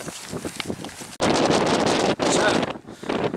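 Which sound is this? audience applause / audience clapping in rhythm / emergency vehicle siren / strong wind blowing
strong wind blowing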